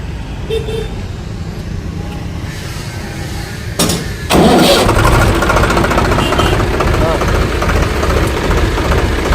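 A vehicle engine cranks and catches about four seconds in, then settles into a loud, steady idle close by, with background noise before the start.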